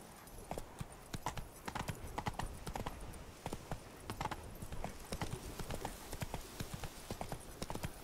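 Rhythmic clip-clop of horse hooves trotting steadily in the video game The Witcher 3: Blood and Wine, close and clear, continuing throughout without talk.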